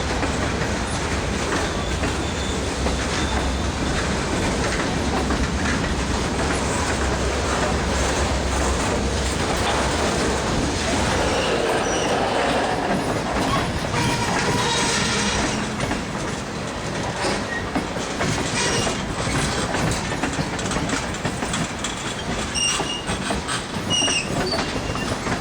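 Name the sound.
Oakland local freight train departing Richmond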